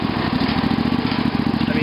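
A Craftsman II riding lawn mower engine runs steadily while moving through a wooded area, a close, loud, rhythmic throbbing putter that holds an even pace throughout.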